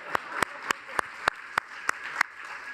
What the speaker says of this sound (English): Yes, we can clap for Parsons.